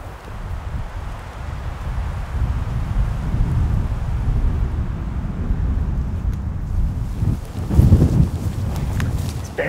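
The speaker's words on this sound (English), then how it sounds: "the wind is swirling pretty bad right here" Wind swirls around an open spot in the Alaskan spring bear country, a steady low rushing buffet with a stronger gust near the end, no voices.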